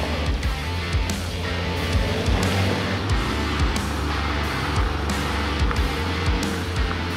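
A car engine roars steadily as it powers sideways up a rutted, muddy hill-climb course at Warburton, with a continuous, rough, loud drone and surging throttle.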